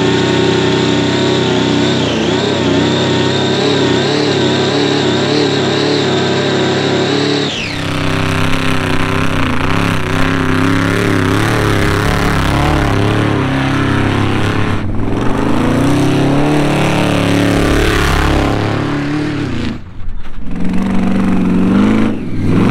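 A supercharged big-block engine in a tow truck revs hard, loud and close, with a sustained high-pitched supercharger whine, then drops and climbs through repeated throttle blips before settling toward a rough idle.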